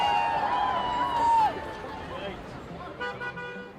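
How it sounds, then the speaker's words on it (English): Car horns honk along a street beside a nurses' strike picket line, a loud sustained toot in the first second and a half, then fainter beeps amid crowd hubbub and nearby talking. "Honking along the street for members of the public has been almost constant"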